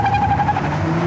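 A 2006 Toyota Avalon Touring with its 3.5-litre V6 and automatic transmission pulls hard under acceleration, a steady, close engine drone filling the brief moment with no talking.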